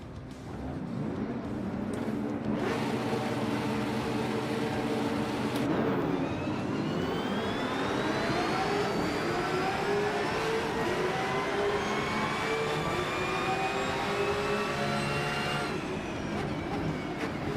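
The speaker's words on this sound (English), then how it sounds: "let's see how the Porsche handles" Porsche race car engine in the sim racing game Rennsport, a steady high whine that rises and drops with gear changes, running continuously and loud without talk.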